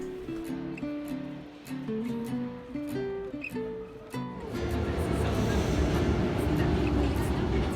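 A Paris subway train comes in: soft musical chime tones and a voice first, then the roar of the train rises to a loud, steady rumble that runs to the end.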